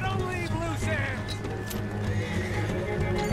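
A horse in Red Dead Redemption 2 neighs and whinnies loudly over clip-clopping hooves, set against a steady game background hum, with a voice heard at points.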